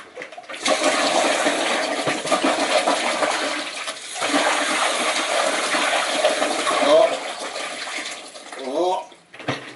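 Waste from a narrowboat toilet cassette is poured out at an Elsan disposal point: a close, continuous gushing and sloshing of liquid that surges and fades, ending in gurgling glugs as air rushes in.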